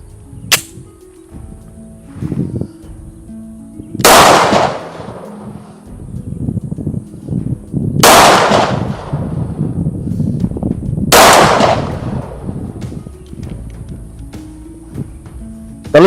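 Three loud, sharp gunshots ring out a few seconds apart, each followed by a brief echo, with quieter handling noises and shuffling in between.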